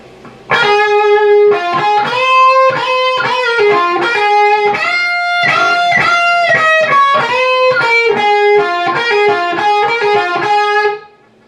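A distorted electric guitar plays a fast solo line with quick note runs and pull-offs, loud and continuous for about ten seconds, no voices.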